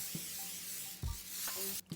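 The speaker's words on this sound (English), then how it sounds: "Now I'm going to spray them with olive oil cooking spray." A continuous soft hiss of an olive oil cooking spray on fries for the air fryer, close and fairly quiet, with a few light clicks and bumps.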